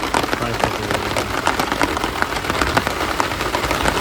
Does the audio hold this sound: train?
no